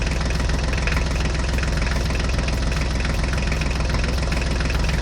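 A Ford tractor engine idles steadily close by, a dense, continuous mechanical rumble with a rapid knocking pulse, loud and unbroken throughout with no voices.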